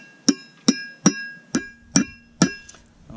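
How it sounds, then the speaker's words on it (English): Six evenly spaced hammer taps drive a trailer wheel bearing race into its hub, each strike a sharp, close metallic ring with a brief bright decay, played alone without talk. "I'm really just lifting the hammer to here and then just guiding the hammer down and letting the weight of the hammer do it"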